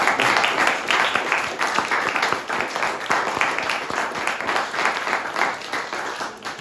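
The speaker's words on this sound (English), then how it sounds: "Can we give Ricardo one more round of applause, please?" Audience at an arts gathering gives another round of applause, dense continuous clapping from many hands that holds strong for several seconds before easing slightly at the end.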